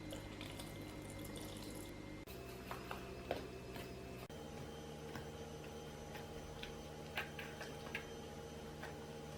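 Water poured little by little from a measured cup into flour to make a smooth dosa-like batter. A faint, steady trickle with small scattered clicks and taps, low in level and without voices.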